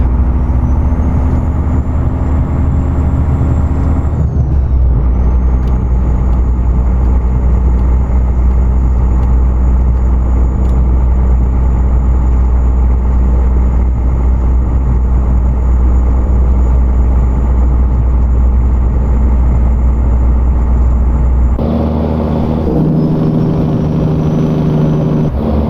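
An engine rumbles loud and steady from a Freightliner Classic XL truck in American Truck Simulator, a deep continuous drone whose pitch shifts at a couple of points, the engine brake blending into the roar.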